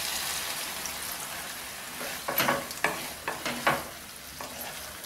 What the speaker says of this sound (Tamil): கரண்டியை விட்டு கிண்டு போதே கரைஞ்சிரும்.